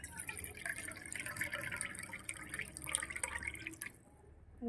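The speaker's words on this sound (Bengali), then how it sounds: "প্রথমে দেখো, এই 1 কাপ জল দিয়ে দিচ্ছি।" Water poured from a cup onto rice in a pressure cooker for chicken biryani, a steady close trickle and splash lasting several seconds before it stops near the end.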